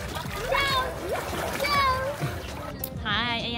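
A child jumping and splashing into a hotel swimming pool in Sharjah, UAE: excited children's voices call out over splashy water sounds nearby, and speech runs through the whole scene.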